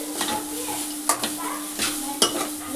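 Onions frying in a pan for Marathi-style koli sambar, a steady sizzle with several sharp scrapes and clinks of a spoon stirring against the pan, close and moderately loud.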